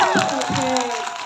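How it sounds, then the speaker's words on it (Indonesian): Audience at a press conference for a drama series in Indonesia claps and cheers, a busy crowd wash with a few shouts and voices mixed in, moderately loud. "Mana tepuk tangan buat tim Mama Nika."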